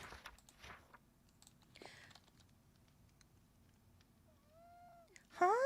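A house cat gives a short, clear meow partway through and then a louder, drawn-out wavering meow close by at the end. Soft tapping and clicking are heard in the quiet gaps between the calls.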